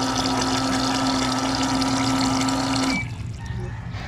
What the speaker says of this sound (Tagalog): So yan ang tamang agos ng water pump.